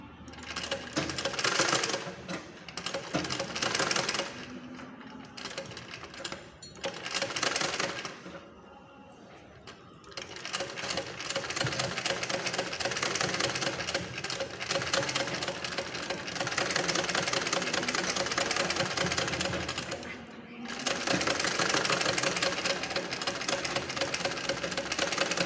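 A sewing machine stitching doubled, folded fabric for a blouse, long rapid runs of close mechanical chatter broken by a few short pauses.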